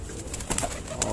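Teddy bear pigeons coo softly among light rustling and scattered clicks, close by and without talk.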